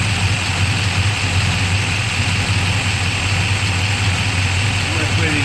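A 383 engine with a solid lifter camshaft idles steadily after a valve adjustment, its low rumble constant and close with a faint ticking layer on top, while someone talks faintly under it.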